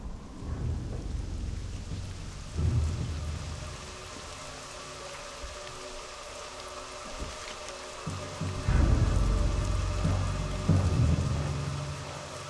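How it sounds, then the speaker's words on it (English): Steady rain falls with deep rolling thunder rumbling several times underneath, a full storm ambience in World of Warcraft, with no voices. "It's been raining everywhere we go. I hear the rain sounds,"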